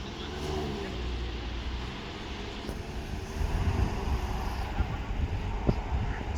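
A Proton X50 SUV sets off through a slalom at a Sepang test area, heard from outside as a moderate engine drone that swells partway through and mixes with broad wind-like rumble.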